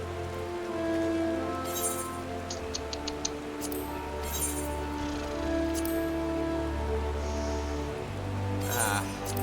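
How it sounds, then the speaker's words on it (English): Steady rain patters against a surface under a layer of music-like tones, with occasional brighter ticks and drips. "It's still raining."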